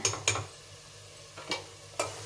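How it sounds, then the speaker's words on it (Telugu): Spice masala stirred and frying in a pan for a Telugu lentil curry, with a low steady sizzle and a few sharp scrapes of the spoon against the pan, close by and with no talking. "ఇవన్నీ వేసి బాగా కలుపుకొని పచ్చివాసన పోయే వరకు బాగా కలుపుకోవాలి ఆయిల్ పైకి వచ్చే వరకు ఇట్లే వేపుకోవాలండి"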